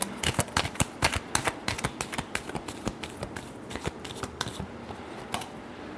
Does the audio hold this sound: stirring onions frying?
no